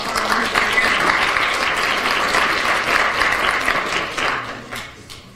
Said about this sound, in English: So a round of applause to